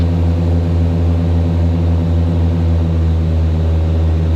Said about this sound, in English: Let's bring our props back to 2400 so we can get rid of that thrumming sound.